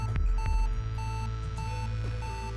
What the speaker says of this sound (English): That beeping's starting to get on my nerves.